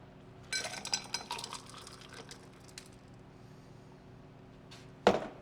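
A shaken honey cocktail and its ice are dumped from the shaker into a Collins glass in a dive bar, a short burst of clattering ice and splashing, then quiet with one sharp clink near the end.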